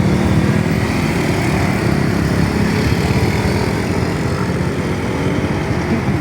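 Motorcycle engine running steadily nearby, a continuous loud rumbling drone with no pauses and no change in pace.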